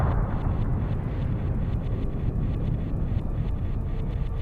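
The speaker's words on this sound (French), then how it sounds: "Ils entendirent alors une violente explosion" A violent explosion deep inside a volcano gives a loud, continuous low rumble that roars steadily throughout, dense and thunderous, with no voices.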